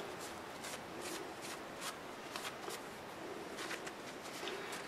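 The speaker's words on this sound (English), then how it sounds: "And then I'll just wipe the glue off so I don't have to scrape it off later." A wet paper towel wiping glue off a piece of turned wood, a soft, faint rubbing that comes in short repeated strokes.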